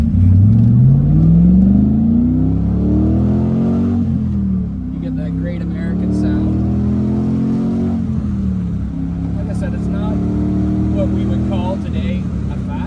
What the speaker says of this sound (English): let's go through the gears